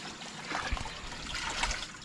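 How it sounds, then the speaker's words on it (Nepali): Cold water poured out in a soft, faint trickling splash, a few irregular gurgles and drips rising briefly near the middle, with no talking. "चिसो पानी हालिरहनु भएको छ"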